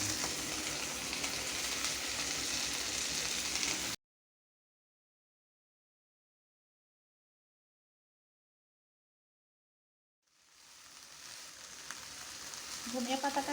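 Onion and coriander leaves fry in a pan with a steady, close sizzle. The sizzle cuts out into several seconds of silence, then returns and builds again.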